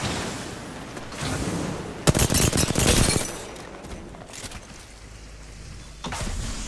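R-301 rifle fire in Apex Legends comes in short automatic bursts: a loud close volley in the middle, with quieter bursts before and after it.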